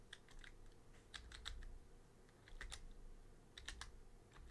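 Typing on a computer keyboard during a Minecraft SMP session, a quiet run of clicky keystrokes in irregular bursts with short pauses between them, close and alone with no speech.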